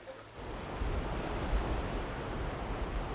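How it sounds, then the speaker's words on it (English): Water flowing steadily in a garden water feature at the Chelsea Flower Show, a continuous close rush with no voices, rising slightly in level after the first half second. "The water feature is designed to add an extra dimension of light and sound."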